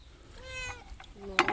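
A cat meows twice, a drawn-out call followed by a sharper, louder one, close by near a drying creek while people talk nearby.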